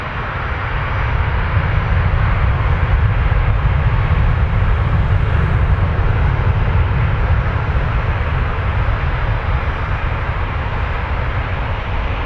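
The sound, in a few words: jet airliner taking off at Toronto Pearson airport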